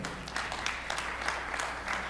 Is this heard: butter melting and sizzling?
no